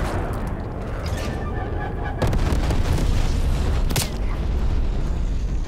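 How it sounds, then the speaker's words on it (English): A frag grenade detonates in Call of Duty: Black Ops Cold War, a deep, heavy boom over dense, rumbling battlefield noise, followed by a second sharp blast moments later. "Frag out."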